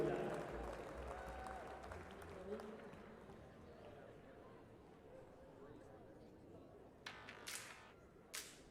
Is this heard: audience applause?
yes